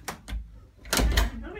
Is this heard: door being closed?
yes